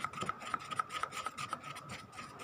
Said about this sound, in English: So I'm preparing a silicone mold. So I'm mixing this for some time now.